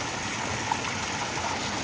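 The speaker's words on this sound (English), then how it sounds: "All right, so here we are, all 3 siphons going, gangbusters." Steady rush of water driven by three siphons at a fish farm lake, a constant even flow with no breaks or voices across the short stretch.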